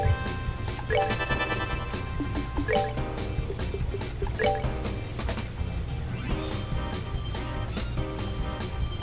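Water drips in The Legend of Heroes: Trails in the Sky, a series of light pitched plinks scattered through a busy layer of game music and low synth drone.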